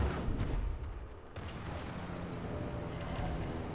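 Bombs from a carrier strike in World of Warships slam into an enemy ship, giving a deep rumbling volley of blasts with a sharp crack early on, then a long low roar that lingers without speech.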